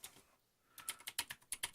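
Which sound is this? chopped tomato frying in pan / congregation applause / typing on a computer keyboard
typing on a computer keyboard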